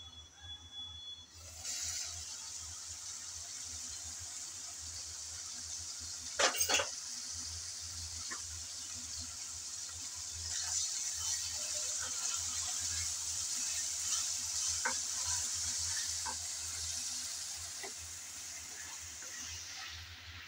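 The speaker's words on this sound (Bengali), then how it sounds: "এখন ঢাকনা দিয়ে ভালোভাবে কষিয়ে নেব" Potatoes fry under a lid for a Bengali chicken gizzard dish, making a steady hiss and sizzle. Now and then a few faint clinks of the pot and utensils break through, and no one speaks.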